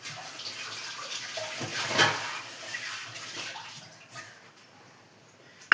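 Running water splashes and swirls as beans and vegetables are rinsed in a kitchen, a close, steady wash with a brief louder surge, then tapering off.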